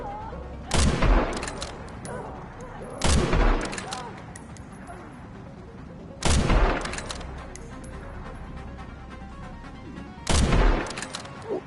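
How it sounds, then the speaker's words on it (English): Rifle shots in the horror game Resident Evil Requiem: four loud, sharp cracks spaced a few seconds apart, each with a short booming tail over a quieter, tense ambient background. "That rifle shot was spot on."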